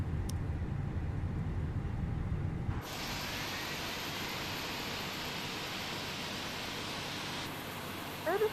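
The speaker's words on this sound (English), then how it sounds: "go ahead and fire up engine 2 and listen to the engine start up while they're pushing us back" An Airbus A320 jet engine in Microsoft Flight Simulator spools up during pushback, a low rumble giving way to a steady broadband hissing whine that holds evenly and shifts slightly near the end, with no talking.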